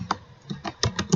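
Quick keystrokes on a computer keyboard, about six or seven crisp close taps in an uneven burst with no talk.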